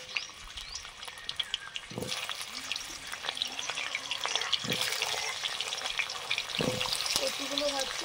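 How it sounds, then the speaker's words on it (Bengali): Taro pieces fry in mustard oil with a little salt, a steady close sizzle broken by scraping stirs and a few clinks of the utensil against the pan. "কচুগুলো ভাজছি, একটু লবণও দিয়েছি।"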